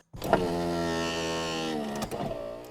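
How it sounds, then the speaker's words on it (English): Power window motor on a 7th generation Toyota Celica, a loud steady whining hum with strong harmonics that runs for about two seconds, then stops with a short clunk and a brief rattle. "Don't know why my window's making that noise."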